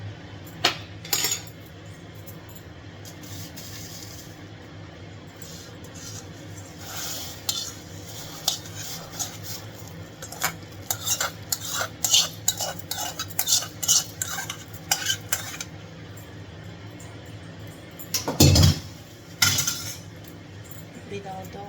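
Golden fried ingredient added to hot milk in a pot, then a spoon stirring with scattered metallic clinks and scrapes, a louder clatter near the end, close and with no speech.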